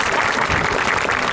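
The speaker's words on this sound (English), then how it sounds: "Give Terry another round of applause" A crowd claps loudly and continuously at an evening ceremony unveiling a newly renovated stadium, dense applause filling the whole moment with no break.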